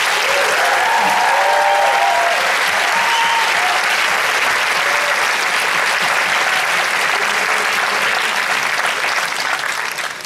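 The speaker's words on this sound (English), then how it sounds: "Let's give one big round of applause again to our partners" Audience at a conference opening ceremony clapping in a long sustained round of applause, loud and dense, tapering slightly at the end, with faint voices mixed in.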